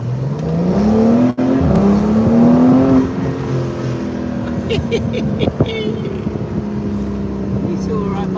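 A car engine floored at full throttle climbs steadily in pitch and then holds a strained high drone, loud and close amid wind buffeting, with a sharp knock early on and faint voices in the background.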